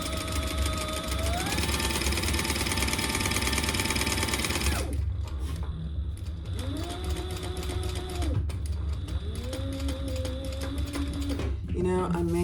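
A sewing machine top-stitches a clutch bag, running in long, steady whirring bursts with short pauses and changes in pitch as it speeds up and slows down, close by and loud.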